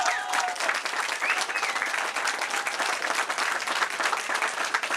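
Audience applause at the Winton Woods High School groundbreaking ceremony in Ohio, a steady, dense wash of many hands clapping that holds at full strength for the whole stretch.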